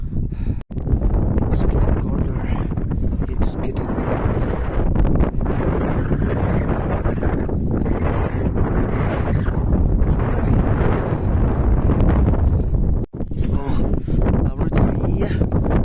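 Cold mountain wind buffets the microphone on the Kedarkantha trek above base camp, a loud constant rumbling gust lasting throughout, with a few brief dropouts.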